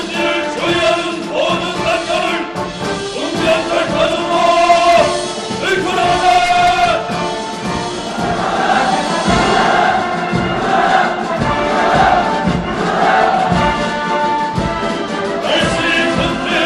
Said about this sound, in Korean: 시위 참가자들이 합창하는 혁명 족보의 함성이 수도의 하늘가로 끝없이 메아리쳐갑니다